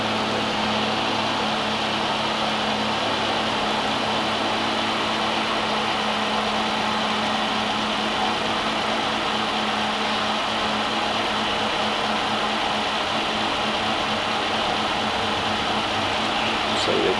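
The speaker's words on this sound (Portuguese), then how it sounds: "Vamos ver como é que tá a marcha lenta desse veículo aí" A Peugeot 208 engine idles with an irregular idle, a steady close mechanical hum and vibration running without pause and with no voices.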